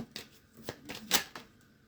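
A single card drawn from a tarot deck: a short run of soft, papery flicks and slides, quiet and close, with no voices.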